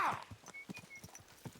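Horse hooves clip-clop at a gallop in Kingdom Come: Deliverance II, a quick rhythmic run of thuds opening with a brief whinny, faint and close.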